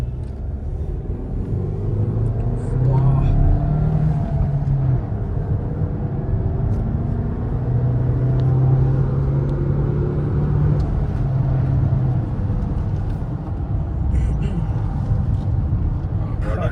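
A new 2026 Renault Duster engine drones as a low, steady cabin rumble while the car drives, and people talk over the constant hum of engine and road.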